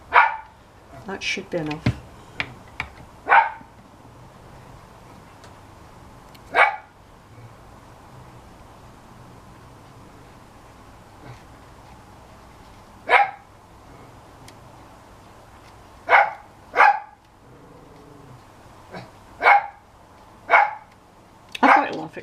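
Timmy, a small dog, gives a series of sharp, close barks scattered across the stretch with long quiet gaps between them. Low growls come in places and a person speaks briefly near the start.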